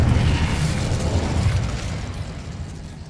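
Casting Incendio in Hogwarts Legacy unleashes a loud, roaring burst of fire, a dense whooshing blast that holds strong then slowly fades over a few seconds.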